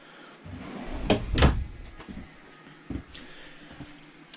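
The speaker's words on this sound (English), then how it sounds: "even just opening up a simple cabinet door like this, I mean, you can just feel it." A wood core cabinet door in the kitchen of a 2021 Grand Design Imagine XLS 17MKE travel trailer swings open with a pair of solid close thumps, followed by a few softer taps and clicks.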